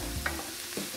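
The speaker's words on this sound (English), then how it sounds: "And give that a good stir." Softening vegetables for a vegan lentil loaf crackle gently in a pan, with a couple of quick stirring scrapes over a steady low sizzle.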